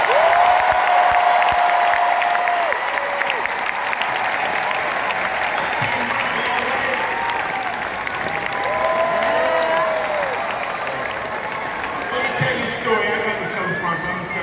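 A large crowd at a Rock and Roll Hall of Fame induction for Rage Against the Machine claps and cheers continuously, with whistles rising above the roar.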